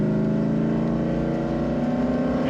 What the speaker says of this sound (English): You can pop it into second, which is the automatic low gear, and then you can punch it.